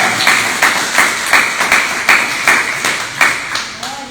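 A church congregation at a worship service claps in unison, loud, even rhythmic beats roughly twice per second, close and dominant, with a faint voice briefly audible near the end.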